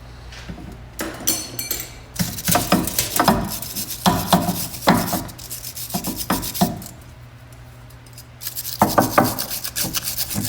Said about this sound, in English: Try to get some of that scaling off of it from rust.